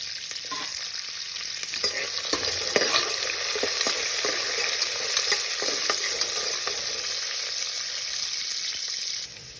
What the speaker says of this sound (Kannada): ಈಗ ಬಟಾಣಿ ಫ್ರೈ ಆಗಿದೆ